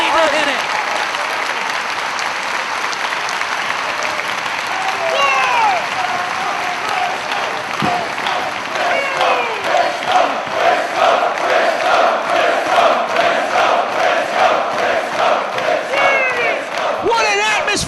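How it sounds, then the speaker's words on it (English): A sellout wrestling crowd in a UK arena cheers and applauds continuously. Loud, dense clapping and whooping fill the space and swell toward the end. "This sellout crowd is on their feet"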